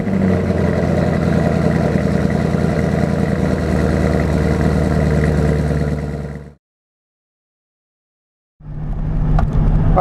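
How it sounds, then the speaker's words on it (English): A 2018 Chevrolet Camaro ZL1 1LE engine runs loud and close with a steady rumbling drone, cuts off into silence for about two seconds, then fires back up. "Without further ado, let's get a cold start."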